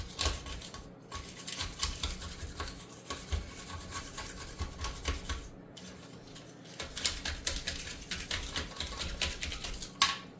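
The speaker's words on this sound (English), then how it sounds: "the razor scraper gets all the pieces of the epoxy out that ran down, and you can just peel it out." A razor scraper scrapes cured epoxy out of a sink during an epoxy countertop job, giving steady, close scratchy strokes that run continuously with brief pauses, with no voices.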